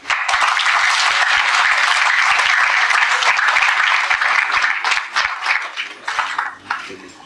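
Sustained applause from an audience at an official ceremony marking a switch to nine-digit telephone numbering, dense and steady at first, then thinning into scattered claps toward the end.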